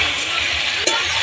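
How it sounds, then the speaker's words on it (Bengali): Pointed gourd and prawn curry sizzles as it is stir-fried in a pan, a steady frying hiss with a single brief clink of the utensil near the end. "এবার আমি ভালো করে কষিয়ে নিই।"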